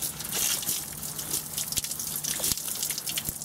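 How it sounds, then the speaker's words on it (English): Water poured from a bottle splashes over an iPhone 4 held in a Dahon bicycle mount, a steady close spattering with scattered drips and sharper taps throughout, without talk. "I've got a bottle full of water, and I'm simply just going to put this over this."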